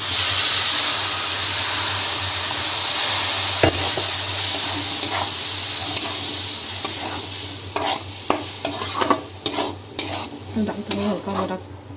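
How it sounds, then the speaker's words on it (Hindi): Water poured into semolina roasting in a pan for upma, giving a strong continuous sizzle and hiss, then sharper crackles, stirring scrapes and bubbling bursts toward the end, close and loud with no talking. "अब ये दे पानी डालबो एमा।"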